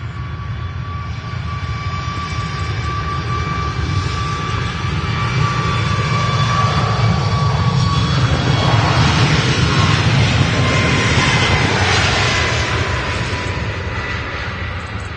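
A TUI airliner departing Manchester Airport for Hurghada, its jet engines a loud, sustained roar with a faint steady whine, swelling toward the middle and easing slightly as it moves off, with no talk.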